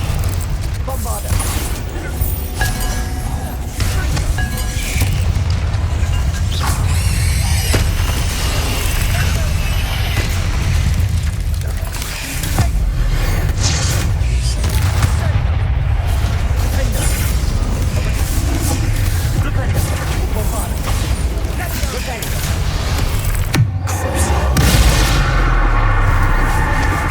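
Bombarda explosion spell blasting in Hogwarts Legacy, a dense, continuous barrage of loud booms and crashing debris that goes on without a break and is heard up close.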